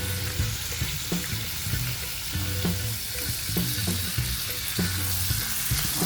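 Angus beef frying in a generous amount of oil, giving a steady loud sizzle with rhythmic stirring and clinks of a utensil throughout.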